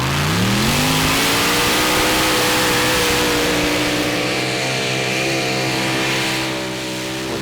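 A pulling tractor's engine roars loudly and continuously at a Eurocup tractor pulling event in Brande, Denmark, its pitch climbing and then holding high as it strains down the track. The sound eases slightly at the end, and no voices are heard.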